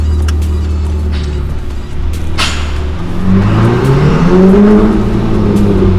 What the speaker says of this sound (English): You can hear the turbos.